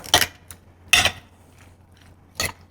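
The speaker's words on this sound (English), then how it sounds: "Let's get a spoon to start stirring this." A spoon knocking against a bowl while stirring guacamole, three sharp clinks spaced about a second apart with faint scraping between, close and alone.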